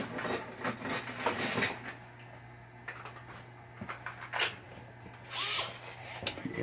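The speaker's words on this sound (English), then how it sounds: "And my electric screwdriver. Oh, the battery's good on it." Battery-powered electric screwdriver run in short bursts at a pinball repair bench, a few brief whirring spurts spaced apart, fairly quiet and close, with no talk.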